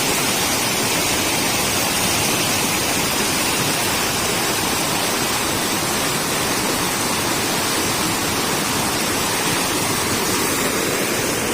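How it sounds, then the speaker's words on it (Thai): Floodwater rushes steadily and loudly over an overflowing weir across a road in Thailand, a dense unbroken roar with no pauses and no voices. "น้ำไหลแรงจริง ๆ ครับผมพี่น้อง"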